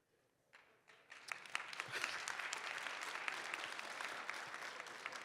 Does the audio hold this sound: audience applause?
yes